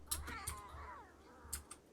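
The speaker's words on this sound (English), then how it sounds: "Those are manhunter cats." Snarling cougar cries from manhunter big cats in the video game RimWorld, a wavering growling yowl over a couple of seconds punctuated by short sharp clicks, moderately loud with no talking.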